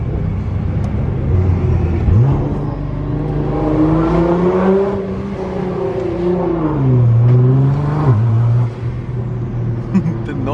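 From inside a Nissan GTR, the turbocharged engine rumbles and climbs through rising, whirring acceleration sweeps while a person talks over it.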